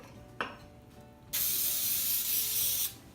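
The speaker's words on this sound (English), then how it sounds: "So first we want to spray our pan." A short hiss of cooking spray onto a baking pan, steady for about a second and a half, following a brief click; fairly close and clear with no talking.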